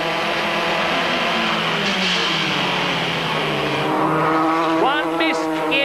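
Dallara Vauxhall Formula 3 race cars scream past at Brands Hatch in British F3 racing, a loud continuous engine wail with rising and falling pitch as cars pass, brief tire squeal, and commentary running underneath.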